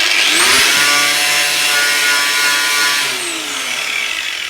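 An abrasive lava-rock-style sponge pad scrubs paint off a classic Mini roof panel in long, close back-and-forth strokes, a harsh sustained rasp that rises and fades with each pass, with no voices.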